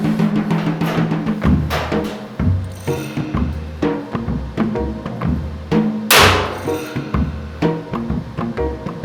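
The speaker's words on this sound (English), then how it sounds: "I will now rivet on the hinges, put the lid on" Hinges are riveted onto the lid of an oil barrel barbecue, producing a close series of metallic clanks, thunks and clicking knocks at an irregular pace, with one sharp louder strike partway through.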